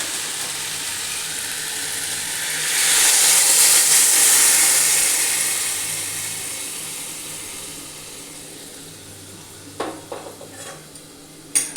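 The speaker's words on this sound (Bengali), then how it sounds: "জল দিয়ে দিচ্ছি।" Hot water poured into a frying pan of fish curry with pointed gourd and potato, a steady hiss and sizzle swelling then easing, followed by a few light clinks of utensils near the end.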